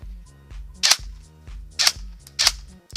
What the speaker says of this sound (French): Donc là vous voyez un chargeur plein, je tire.